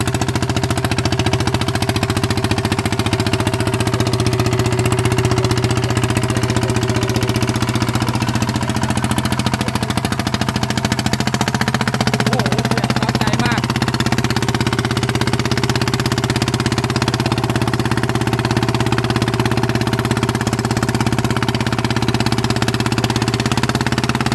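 A single-cylinder engine on a budget rice-field tilling machine runs steadily and loudly nearby, a rough, even, throbbing drone that holds without letup.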